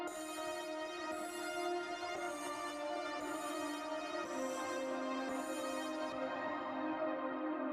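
Music treated with a spaced-out plugin effect plays as sustained, layered tones with a rich harmonic stack. Pulsing bright shimmers repeat at a steady interval, alone and moderately quiet.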